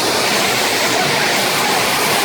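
Waterfalls at the Golden Nugget pool roar nearby from just overhead, a loud, steady, unbroken rush of falling water that fills the whole moment.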